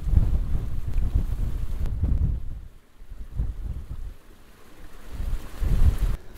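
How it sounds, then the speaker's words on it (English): Strong gusts buffet a microphone beside waterfalls blowing back up in the wind, loud low rumbling bursts that drop away briefly near the middle and then surge again. "Trying to protect the microphone a little bit from the wind."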